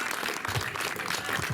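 Applause from an audience at a community event, a steady dense wash of clapping that holds at a moderate level throughout with no pauses.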